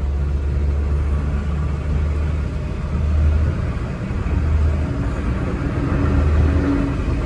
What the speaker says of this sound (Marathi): तर तुम्ही बघू शकता 80वर आहे गाडी